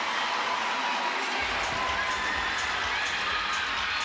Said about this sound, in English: Utah crowd liking what they see across the way